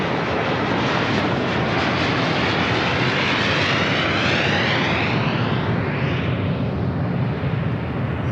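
An American airliner taking off from runway 25 right at LAX, a loud sustained engine roar close by that sweeps past and gradually fades.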